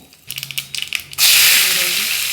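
Mustard seeds, cumin and curry leaves dropped into about two spoons of hot oil for a tomato kurma tempering, a few light taps and clinks first, then a sudden loud, steady sizzle that crackles on and slowly eases.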